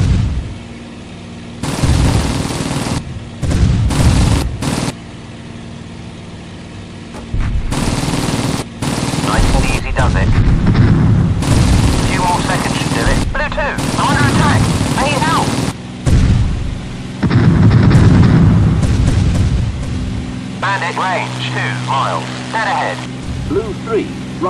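Rapid bursts of gunfire crackle repeatedly across an aerial combat scene, loud and dense, interleaved with urgent shouted voices and radio talk.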